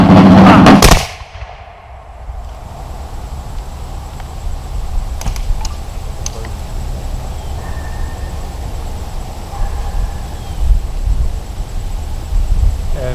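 A ceremonial rifle volley fired at a Confederate grave: one loud sharp crack right at the start, then a long low outdoor rumble with wind and a few faint distant sounds.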